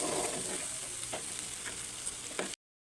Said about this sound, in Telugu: రుచికి సరిపడంత సాల్ట్ వేసుకొని కలుపుకోవాలి ఇలా మాడంటకుండా కలుపుకోవాలి